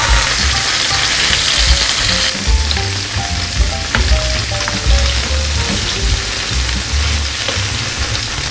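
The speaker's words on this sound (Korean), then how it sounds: "두부를 넣어 구워주세요" Tofu and garlic fry in an oiled pan with a loud, steady, close sizzle and occasional stirring scrapes throughout, while soft music plays underneath.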